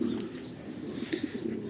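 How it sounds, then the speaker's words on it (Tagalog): Racing pigeons coo softly in a loft during training season, low murmuring calls repeating under a faint background hiss, with no talking. "So nilagay natin yung mga ibon dito."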